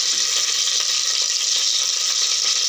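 Crushed skin-on garlic, curry leaves and green chilli sauté in hot oil for a South Indian crab gravy, giving a loud, dense, continuous sizzle that stays even throughout with no voices.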